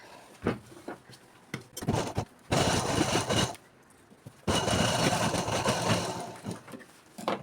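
A sewing machine stitches school uniform pants in two long steady whirring bursts, close and fairly loud, with short pauses and handling clicks between runs and no talking.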